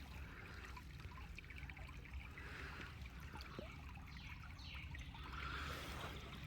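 Creek water trickling on Mount Saint Helens, a steady, soft, continuous burble that stays faint and even throughout, with no voices over it.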